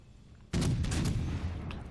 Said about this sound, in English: And there he is again, firing his guns